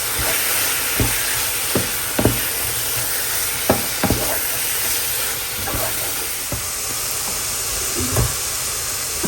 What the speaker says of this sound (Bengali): এখানে কুমড়া শাক ভাজি করতেছি